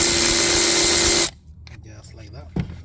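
A power gun whirring as it spins a bolt out of an Audi A4 Quattro oil cooler housing, a loud continuous drone for just over a second that cuts off abruptly, followed by quiet rustling and a brief spoken word.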